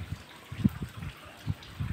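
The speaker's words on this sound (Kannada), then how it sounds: "ಎಲ್ಲ ಕಡೆ ಅಷ್ಟೇ ನೀರು ತೊಟ್ಟಿತ್ತಾ ಇದೆ ಬೆಟ್ಟದಾಗಿಂದ" Water drips and trickles from a hillside spring at the Dasharatha Rameshwara shrine near Hosadurga, with soft, irregular splashes landing close by over a low outdoor hush.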